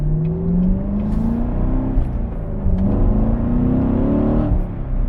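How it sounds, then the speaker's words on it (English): A Corvette C7 Grand Sport V8 engine revving and accelerating, loud and close, its pitch sweeping upward, dipping between gear changes, then climbing again. "That V8 sounds so good."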